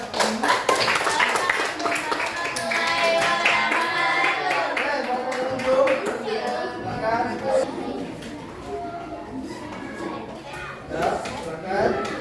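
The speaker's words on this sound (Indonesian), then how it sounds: "Tepuk tangan semuanya." An audience breaks into applause, scattered hand claps mixed with lively young voices chattering, fairly close and moderately loud.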